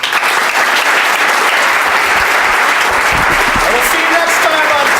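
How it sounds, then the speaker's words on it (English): Audience applause for a technology podcast's AI panel at a European developer conference, steady dense clapping that fills the whole moment and stays loud throughout. "Big round of applause for our panel."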